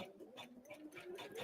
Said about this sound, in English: I'm going to go ahead and put the presser foot down, and we're going to stitch out one more.